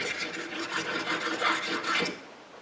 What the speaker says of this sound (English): take the rod, push it through, and then just repeat this a few times